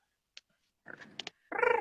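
A voice imitates a cat's purr in a Grinch-like style, with brief clicks and rough rumbling bursts ending in a loud, buzzy, voiced purr, heard close and alone.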